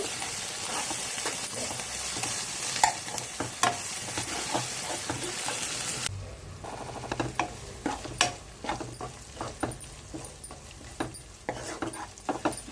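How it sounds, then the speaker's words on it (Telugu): Onions fry in a pan for a sand fish curry, hissing and sizzling steadily at close range while a spatula clatters and scrapes in quick, irregular strokes; the sizzle grows quieter partway through. "ఉల్లిపాయలు వేగుతున్నాయండి"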